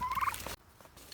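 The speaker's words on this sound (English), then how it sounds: "Are you turkeys doing okay?" A farm turkey lets out a single close, loud gobble that warbles for about half a second and then stops, leaving quiet background.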